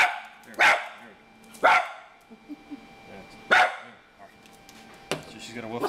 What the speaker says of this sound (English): We got the dog down here that goes crazy over the light.